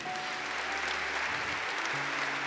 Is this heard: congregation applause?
yes